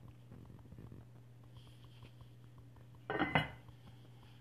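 Pot roast ladled into a bowl: a low steady hum with faint scraping, then a brief burst of dishes and cutlery clinking near the end.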